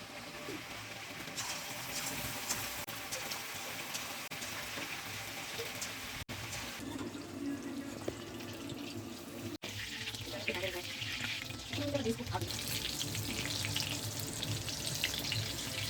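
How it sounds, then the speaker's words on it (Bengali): Chicken pieces coated in a light batter fry in oil in a wok, a continuous bubbling sizzle close by that grows busier and louder as more pieces go in, with a couple of brief clicks and no talking. "কড়াইতে তেল দিয়ে দিয়েছি চিকেনগুলো ভাজবার জন্য এবার আমি চিকেনগুলো আস্তে আস্তে দিয়ে দেবো"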